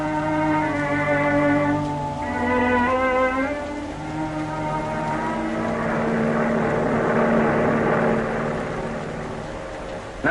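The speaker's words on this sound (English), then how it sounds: "A transport airplane moving through the sky at high speed." A transport airplane roars through the sky at high speed as a radio drama sound effect, a loud continuous propeller-engine drone with shifting harmonic tones, heard alone without voices.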